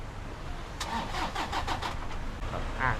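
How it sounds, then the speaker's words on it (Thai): A Toyota Vigo pickup truck engine, started by remote, cranks with a quick series of chugs, then catches and settles into a steady idle with no voices. "กดค้างไว้ 3 วินาทีเครื่องยนต์สตาร์ทเลย"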